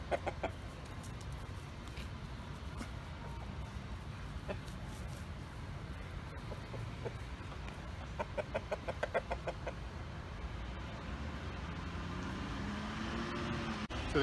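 Backyard flock of hens with a rooster clucking, soft scattered clucks and calls at a moderate distance over a low rumbling background, with a brief voice in places.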